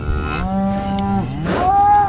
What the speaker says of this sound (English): It's a good cow.